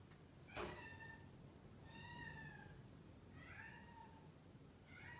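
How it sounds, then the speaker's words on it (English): A house cat cries with a series of drawn-out, wavering meows, several distinct calls spaced a second or so apart, faint and alone against a quiet room background. "Do you hear this crazy cat?"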